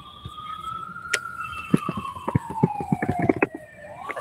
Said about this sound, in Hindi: एम्बुलेंस की आवाज आ रही होगी आपको